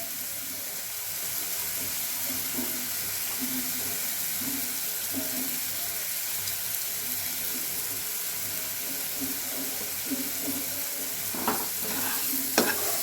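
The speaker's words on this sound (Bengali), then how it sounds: "আবারও একটু নাড়াচাড়া করে নেব" Semolina pasta being stirred in a pan with oregano, a steady soft sizzle under scraping spoon strokes for the whole stretch, with a few sharper clinks near the end.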